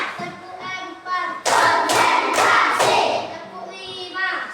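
A group of students in a classroom clap in a counted rhythm before prayer, several sharp, loud hand claps in quick succession between brief spoken counts from a teacher and children.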